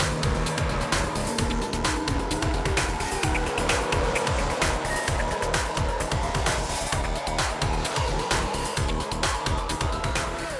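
A1GP race cars blasting down a walled one-kilometre start-finish straight toward the first corner, engines screaming loudly with rapid pulsing roars as cars pass close by, a dense continuous racing din.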